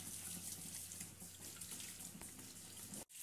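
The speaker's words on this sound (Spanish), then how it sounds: "Cogemos las pechugas de pollo y la lavamos." Tap water runs steadily over raw chicken breasts being washed at a kitchen sink, a continuous broadband splashing stream that stops abruptly near the end, with no talking.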